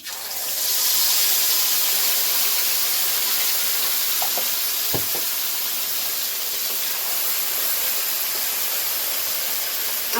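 Black cumin and ground spice paste frying in hot oil for a Bengali fish curry, giving a loud, steady hiss and sizzle throughout with a few faint clinks partway through.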